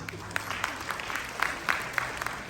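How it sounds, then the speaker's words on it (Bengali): Audience applause at a Bengali New Year (Pohela Boishakh) celebration in New York, a short burst of scattered clapping from a modest crowd, fairly faint and steady throughout. "এই যে ওনাদের ছোট বাচ্চাদের প্যারেন্টসের জন্য একটা হাততালি প্লিজ।"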